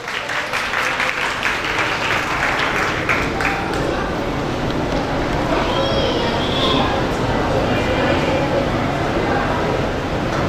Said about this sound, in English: I would like to call in a huge applause